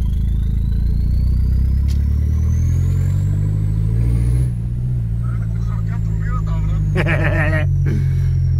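A car engine accelerates with turbo pull, a loud continuous low drone rising in pitch alongside a faint whistle, with a person talking over it.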